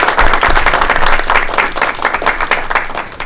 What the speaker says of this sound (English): Let's give a round of applause for Sir.